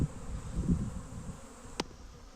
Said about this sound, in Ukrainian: Сонце не попадає, але температура дозволяє, то пчелки теж літають.